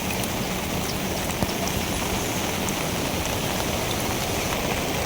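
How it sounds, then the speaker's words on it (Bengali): Heavy monsoon rain pours down outdoors during fishing with a current net, a dense, steady, close hiss with no breaks and no voices. "বৃষ্টি তো আবার নতুন করে আইতাছে"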